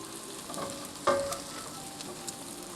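Tomato paste browning in a pan, a soft continuous sizzle with a single sharp utensil clink and light stirring scrapes.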